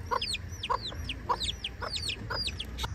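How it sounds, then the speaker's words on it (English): Chickens and roosters roam by the roadside at the start of Maui's Road to Hana, clucking in a rapid repeating pattern of short calls, close and fairly clear over low outdoor background noise. "At the beginning of the road to Hana, there's all kinds of chickens and roosters running around."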